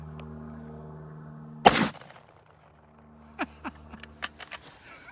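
A .458 Winchester Magnum rifle fired at a steel plate gives one loud, sharp report with a brief decaying tail, followed a little later by a few lighter, scattered clicks and knocks.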